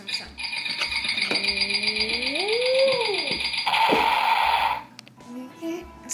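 A toy hand grenade plays its electronic sound effect: a rising and falling whistle followed by a burst of rattling, crackling noise, loud and close.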